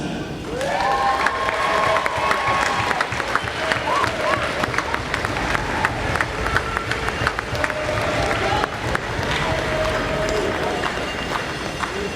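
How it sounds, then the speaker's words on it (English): An arena crowd at a junior lacrosse championship award presentation, Toronto Beaches versus Whitby Warriors, applauds and cheers steadily, with scattered whistles and shouts rising above the clapping. "Give a big round of applause from the Toronto Beaches to Will Johnson."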